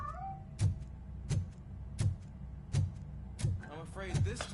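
A cat meows repeatedly in the Robocop Rogue City video game, about six evenly spaced calls roughly once every 0.7 seconds, close and clear over a low ambient hum.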